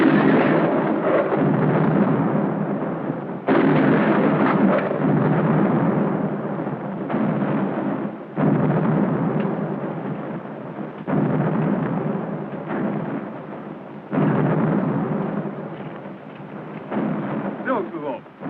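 Volleys of 9-pounder artillery cannons fire in a film battle, heavy rumbling booms recurring every few seconds, loud and continuous with battlefield din between shots.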